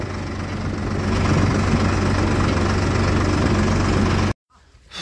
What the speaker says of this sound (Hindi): दोस्तों ट्रैक्टर निकाल लिया है जी बाहर